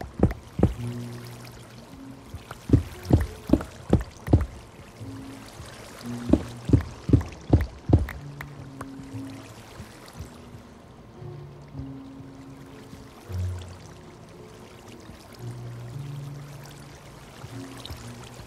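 Minecraft water flows and splashes in a game world, with a series of sharp splashy hits in the first half giving way to a softer, quieter watery wash over a low musical background.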